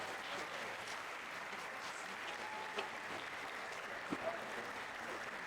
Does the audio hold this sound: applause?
yes